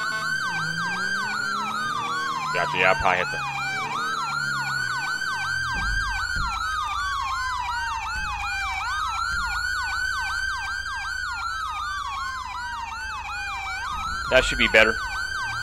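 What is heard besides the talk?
custom sirens in video game GTA 5 roleplay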